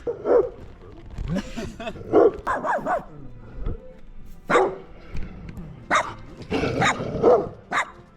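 Several dogs bark in sharp, irregular bursts close by, with yelps and whines mixed between the louder barks.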